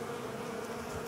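A winter cluster of honey bees buzzing steadily during a swarm removal, a low continuous droning hum, close and soft, with no voices over it.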